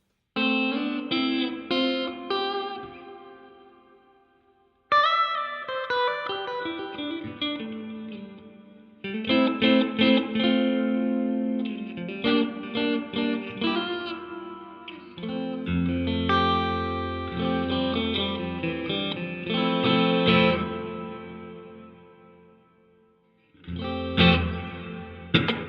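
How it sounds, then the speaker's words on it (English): An electric guitar played through a Donner delay and reverb pedal with the room reverb at maximum, strummed chords and picked notes ringing out into a long wash of reverb tail, with pauses between phrases and no talk. "I find room reverbs turned all the way up sound pretty unnatural"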